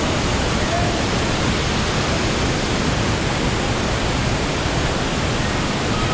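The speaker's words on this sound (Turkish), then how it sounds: "Şelaleye bak." A waterfall at the end of Sapadere Canyon near Alanya roars nearby with a loud, constant rushing hiss that stays steady throughout.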